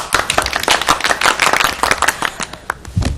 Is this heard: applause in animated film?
yes